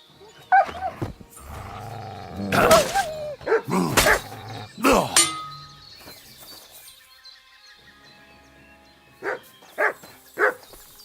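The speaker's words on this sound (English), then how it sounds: "Good dog, Mutt" A dog barks and yelps loudly amid other commotion and voices, then three sharp, separate barks ring out near the end.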